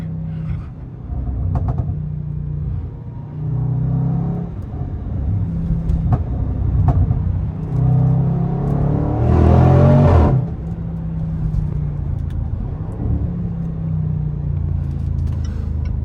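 A Range Rover SVR truck's engine rumbles and revs while driving at speed, heard from inside the cabin: a continuous low drone with surges of acceleration and one louder, harsher roaring burst near the middle.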